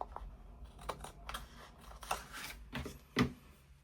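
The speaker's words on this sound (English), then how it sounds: "take the scissors and trim that" A few crisp snips of scissors cutting paper, spaced irregularly and close by, with a sharper cut near the end; no talking.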